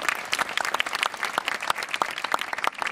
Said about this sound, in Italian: chiedo un applauso per Tommaso Perloco.